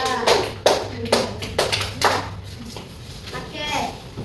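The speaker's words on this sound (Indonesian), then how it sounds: "Coba tepuk tangan untuk kelompok 2" A small class of schoolchildren claps for a presenting group, with several distinct sharp, uneven claps close by that fade into softer scattered ones, and faint voices underneath.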